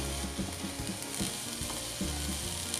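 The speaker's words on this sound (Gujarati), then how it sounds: "હવે તેમાં બાફેલ બટેટાના ટુકડા નાખીશું, મિક્સ કરીએ।" Boiled potato pieces are mixed in a hot pan for taco stuffing, with a steady sizzle and frying hiss under rhythmic scraping stirs, close and continuous.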